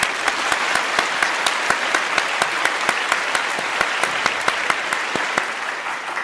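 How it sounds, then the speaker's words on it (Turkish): Studio audience applause on a Turkish quiz show, a steady, loud wash of clapping with a rhythmic beat of sharp claps running through it, sustained to the end. "Alkışlarınızla."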